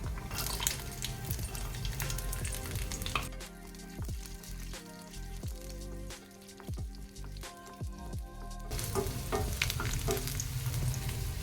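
Garlic sautés in oil in a pan while a vegetarian curry is cooked, a close crackling sizzle with scattered stirring clicks and spatters that eases midway and then picks up again.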